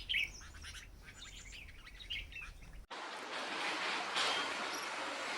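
Bulbuls chirp at a feeder hung like a swing, their bright calls scattered over steady outdoor noise, and the background grows denser and more hissing partway through.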